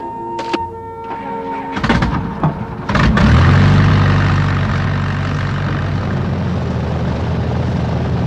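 A Wright brothers airplane propeller engine of about 1910 starts after a few thuds and knocks, then settles into a loud, steady droning hum that holds on close by to the end.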